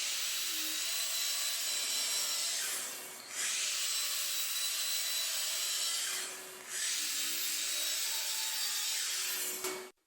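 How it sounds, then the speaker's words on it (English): A hand saw cuts through a 1x10 wooden board in three steady stretches of close, loud rasping strokes, each broken by a brief pause, with no talking. "we're going to cut this 1x10 board into three 39-inch sections"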